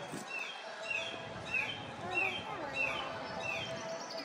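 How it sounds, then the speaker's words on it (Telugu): Birds chirp outdoors in a garden with paper flowers, repeated high calls recurring about every half second over a steady ambient background, fairly close and clear. "బర్డ్ సౌండ్స్ చూడు."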